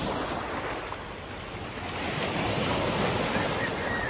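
Sea waves wash onto a sandy beach in a steady surf roar that rises in the latter half, mixed with gusty wind noise on the microphone and no speech.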